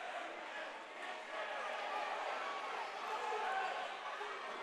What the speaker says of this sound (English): Crowd a little ruckus here,